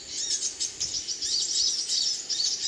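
Sogon birds call from a tree in rapid, repeated high chirps and tweets, fairly close and clear, with a faint insect hum beneath.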